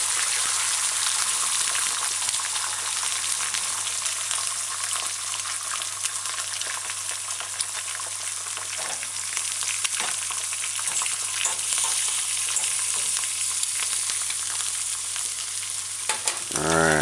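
An egg fries in a pan with a bright, continuous sizzle and fine crackling spatter, steady and close for the whole stretch, with a brief scrape near the end.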